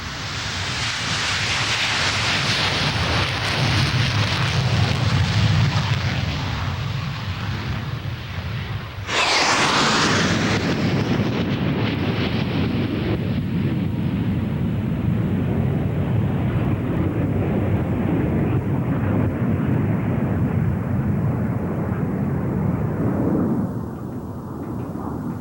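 Hawker Hunter jets of the Patrouille de Suisse aerobatic team roar loudly overhead, a sustained broadband jet rumble with a sharp surge as one passes close, then a long steady roar fading slightly toward the end.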